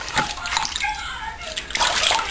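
Water splashing in a tub during a puppy's bath, with a few close, bright splashes over running water.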